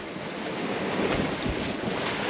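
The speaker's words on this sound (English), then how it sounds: "it's windy. We got a little bit of spray coming into the cockpit." Wind buffets steadily over choppy open sea on a sailboat passage, with waves slapping and spray splashing nearby in an unbroken, rushing roar.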